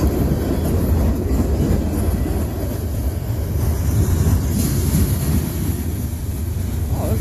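Close, loud passing of a CSX freight train hauling coil cars, a continuous heavy rumble and rattle of wagons on the track that holds steady throughout.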